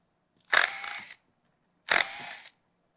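An Icon G2 1/2-inch drive ratchet from Harbor Freight, standard head, being taken apart: two short, sharp mechanical bursts, each about half a second long, close and fairly loud, separated by a brief silence.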